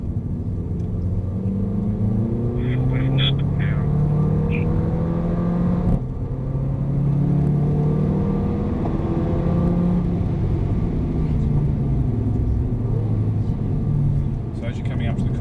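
A Mercedes-AMG A45 engine drops through the gears during track driving tuition, its steady loud rumble stepping down in pitch again and again, with brief whirs as it approaches corners.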